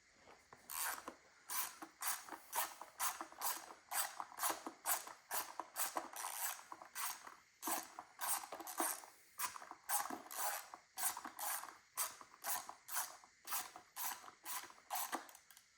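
Ratchet undoing 10mm bolts on a BMW S62 engine while separating it from the wiring loom, a rapid, regular run of close clicks and creaks that keeps going.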